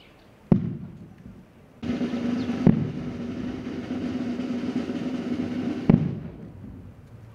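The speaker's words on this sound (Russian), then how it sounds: "Звенящую тишину разрядили залпы оружейного салюта." Gun salute volleys fired at a Victory Day ceremony on a crowded square in Brest: three sharp, loud reports spaced a few seconds apart, each ringing out over a sustained rumbling crowd and ambient noise.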